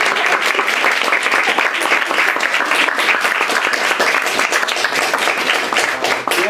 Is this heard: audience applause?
yes